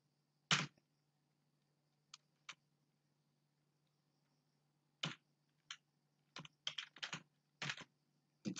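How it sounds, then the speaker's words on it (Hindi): Values typed on a computer keyboard, with sparse clusters of close, crisp key clicks separated by pauses over a faint steady hum. "अब इसके अंदर मैं सीधे ही वैल्यूज टाइप करता हूँ।"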